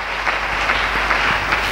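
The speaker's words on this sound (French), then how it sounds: "Acclamez bien pour Dieu." A church congregation applauds together, a dense steady patter of many hands clapping at close range throughout.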